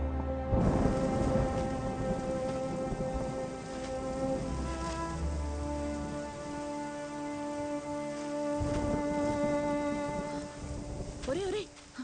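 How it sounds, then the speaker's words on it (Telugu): Steady rain pours with rumbles of thunder in a film scene, a dense continuous wash of drops over a low rolling boom, with music-like tones running beneath throughout. "వర్షంలో ఏంట్రా?"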